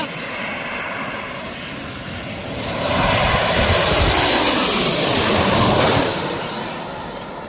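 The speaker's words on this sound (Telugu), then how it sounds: "ఇదిగో ఇక్కడ ల్యాండింగ్ అవుతూ ఉంటాయి అనమాట. విమానాలు చాలా కింద నుంచి వస్తాయి." A low-flying airplane comes in to land over an airport viewing spot near Washington DC, its engine roar swelling from a steady rumble to a loud close pass and then easing off, with no talking.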